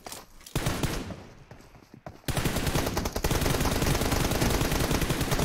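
Automatic gunfire in PUBG Mobile during a tournament final: a few shots at first, then a loud, continuous rapid burst of rattling fire.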